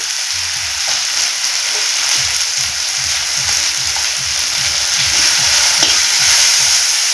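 Spice stuffing for teasel gourd fries loudly and close in a pan, with a constant sizzle and rhythmic scraping strokes of stirring throughout.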